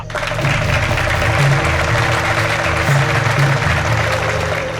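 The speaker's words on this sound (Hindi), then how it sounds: "लेकिन ताली जरूर बजाना। तालियां।" Audience applause at a street show, a dense, steady roar of many hands clapping at full strength, with sustained tonal sound running underneath.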